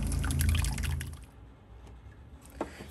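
Coolant drains from a Chevrolet Cruze engine during head gasket work, a steady pouring splash into a container that fades into sparse drips, close by.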